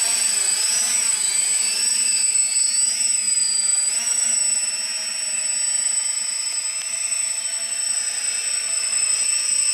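Ares V-Hawk RC aircraft hovering, with a steady high-pitched electric motor and propeller whine close by whose pitch wavers slightly as it holds position.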